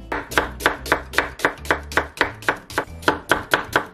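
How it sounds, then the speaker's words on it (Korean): A knife cuts an onion into thin strips on a cutting board, giving a steady, even rhythm of crisp, close chopping taps, about three per second, with no talk. "채를 썰어주세요."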